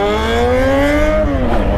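A BMW F800 motorcycle engine revving, a loud, close harmonic roar whose pitch rises steadily and then dips near the end.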